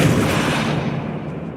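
Spells cast in the Hogwarts Legacy video game burst out as loud, dense magical blasts and booming whooshes that follow one another closely with no pause, and no voices are heard over them.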